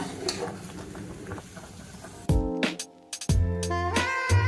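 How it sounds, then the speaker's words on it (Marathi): A pot of sabudana papad mixture boils, a soft bubbling hiss, then a ladle stirs it with loud scraping and ringing metallic knocks against the pot, close by. "हे बघा हे अशी उकळी येते आता पाच मिनटं झाले मी हलवते"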